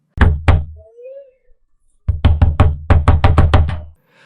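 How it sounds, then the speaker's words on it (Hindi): Knuckles rap on a wooden door in two separate bursts, first a pair of knocks, then after a pause a rapid run of about a dozen firm knocks, loud and close, with no talking. "अगले ही रोज सुबह किसी ने उनका दरवाजा खटखटाया।"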